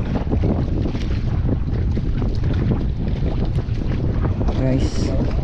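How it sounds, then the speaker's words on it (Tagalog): Strong wind roars steadily across the microphone, a constant heavy buffeting with brief faint sounds near the end. "Lakas ng hangin."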